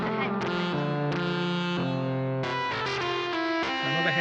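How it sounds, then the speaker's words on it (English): Heavily distorted tones played as chords and single notes, a dense buzzing wash of added harmonics that shifts pitch every second or so, loud and continuous with no gaps. "You get a broadband noise because a lot of different pitches come out, can't go in, and the distortion adds different pitches out."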